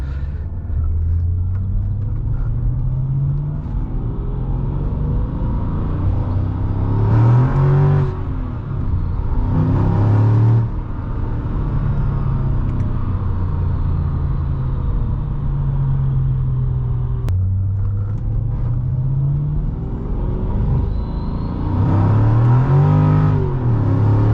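A 2006 Mercedes-Benz E55 AMG W211 engine heard from inside the car during repeated hard pulls, a deep rumble surging upward in pitch several times with brief drops between, loud and close with no talk.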